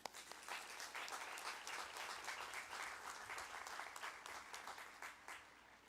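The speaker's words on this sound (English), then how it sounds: "Let's give a clap for that." Graduation ceremony audience clapping steadily for about six seconds, a dense, even patter of many hands at moderate distance with no voices standing out.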